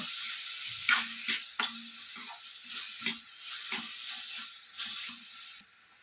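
Large tomato cooking down in a pan for a brain fry, a soft steady sizzle with a few clinks of a spoon stirring, quiet and close, no voices.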